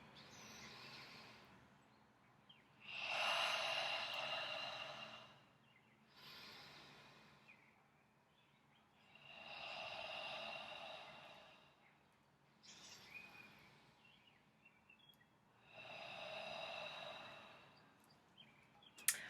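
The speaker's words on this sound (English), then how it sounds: "we're going to take 3 deep breaths" Three slow, deep breaths in a quiet room, each a long airy inhale followed by a softer exhale, evenly spaced and close to the microphone with no talking.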